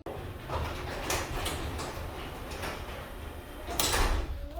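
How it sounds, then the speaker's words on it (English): A garage door rolls down in a home garage, a rough continuous rumbling slide lasting several seconds and growing louder toward the end, with no voices. "Let me roll down the garage door"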